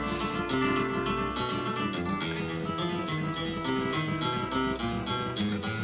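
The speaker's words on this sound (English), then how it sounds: "This is where those little crystally sounds are coming from" Dense, layered music with a glassy, sparkling shimmer of high tinkling tones from the Soundtoys Crystallizer effect sustained throughout, steady and full.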